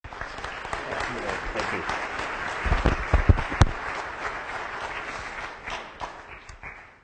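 Lecture audience applauding after a presentation, a dense round of clapping that swells and fades, with a short spoken thanks in the middle.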